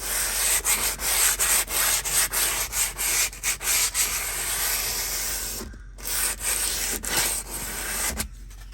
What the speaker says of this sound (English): Oh, now sanding the beams.